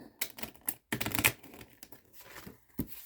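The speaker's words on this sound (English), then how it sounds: "I feel like giving this a good shuffle." Lenormand cards being shuffled by hand in quick bursts of crisp riffling and slapping, close and fairly quiet, with short pauses between flurries.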